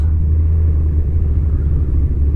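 A Kawasaki ZZR 1100 motorcycle rides along a highway skyway, its engine a steady, loud, close low rumble with little change in pitch and no talking.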